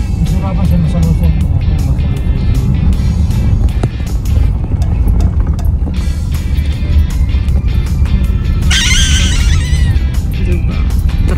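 A truck passing on a road near Patar White Sand Beach in Bolinao, Pangasinan makes a loud, steady roaring rumble close by, with people talking over it.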